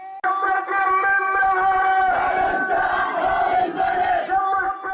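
Protesters on a street march in Bahrain's southern Sahla and Dar Kulaib chant in unison, a loud rhythmic crowd of many voices surging and falling together for several seconds.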